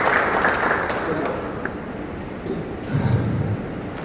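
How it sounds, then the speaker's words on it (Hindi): A crowd of trainees at a first aid training event in a mall breaks into brief applause for a volunteer, the clapping spread and moderate, with voices talking over it. "जोरदार ताली हो जाए"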